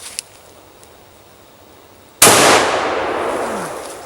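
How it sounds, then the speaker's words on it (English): An unsuppressed 300 Win Mag rifle fires a single shot, a sharp loud crack with a long ringing, rolling decay after a quiet stretch, outdoors. "here's the same 300 Win Mag without a suppressor."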